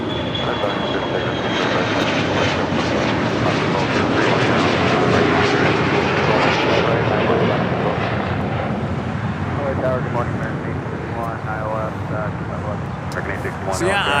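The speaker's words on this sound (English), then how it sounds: "runway 25, right, clear takeoff." An American airliner taking off from runway 25 right at Los Angeles International Airport produces a loud, steady jet roar that fills the whole stretch, with a faint voice near the end.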